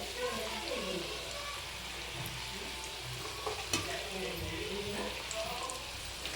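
Cauliflower pieces for gobi 65 frying in hot oil, a steady broadband sizzle with a brief crackle burst midway, moderately loud and continuous throughout.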